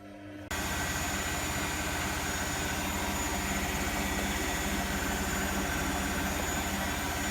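A Bosch WFK2801 washing machine on a 1400 rpm spin gives a steady, loud mechanical drone with a low rumble and slight vibration, starting abruptly after a brief quiet moment and holding constant throughout.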